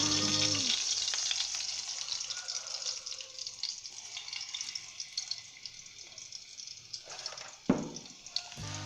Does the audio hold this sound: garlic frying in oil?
yes